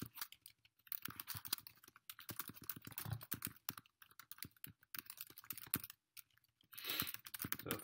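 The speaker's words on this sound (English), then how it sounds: "So if you hear me typing away again" Close, quiet typing on a computer keyboard comes in irregular bursts of sharp clicks and key taps, with brief pauses between runs and no speech.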